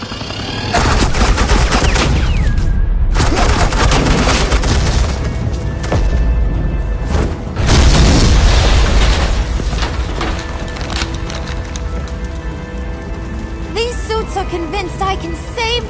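Dense, loud suppressing gunfire and booming explosions in a Batman video game, sustained bursts of shots almost without pause, with voices and music mixed underneath.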